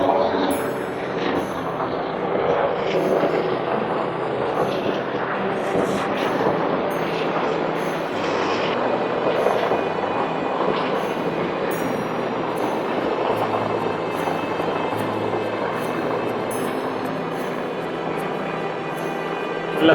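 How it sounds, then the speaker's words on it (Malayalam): Four helicopters, two large and two small, fly over a flag-off parade, their steady rotor and engine roar filling the air continuously and loudly throughout. "4 ഹെലികോപ്റ്റർ 2 വലിയ ഹെലികോപ്റ്റർ 2 ചെറിയ"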